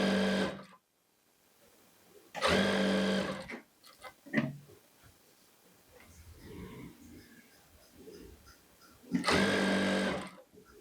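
A sewing machine stitches a kurti in three loud mechanical bursts, the first at the very start, then one in the middle and one near the end. Quieter handling sounds and a faint voice fill the pauses between runs.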